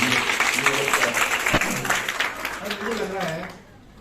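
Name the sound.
audience applause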